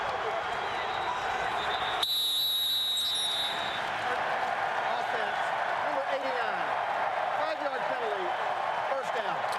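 Crowd noise rises from the Philadelphia Eagles' home stadium during an NFL game against the Washington Redskins: a steady, broad roar and murmur running under a broadcast commentator's talk, with brief whistle-like tones partway through.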